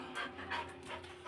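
One of two pet dogs pants close by, quick rhythmic breaths in a steady, soft series.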